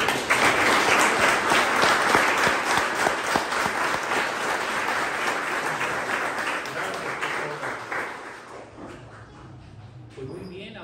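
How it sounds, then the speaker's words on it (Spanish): A congregation applauds at an outdoor patron saint festival for the Virgen del Carmen in Gallos Grandes, Tula, Tamaulipas, with dense, loud clapping that slowly fades toward the end. "le damos un fuerte aplauso también a los"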